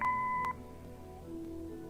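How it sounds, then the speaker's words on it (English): In the Kathy Rain video game, an answering machine gives a short, clear electronic beep at the start, followed by quiet room tone. "Leave a message after the beep."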